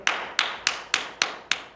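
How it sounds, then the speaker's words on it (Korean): Six sharp, loud hand claps at an even pace, each crisp and close with a short decay, heard alone without talk. "저 박수 이렇게 칩니다"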